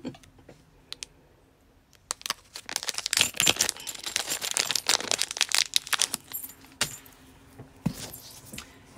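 A metal zipper pull being worked onto a zipper for a sewn pouch, producing a flurry of small metallic clicks and jingles, loud and close, in irregular bursts after a quiet start.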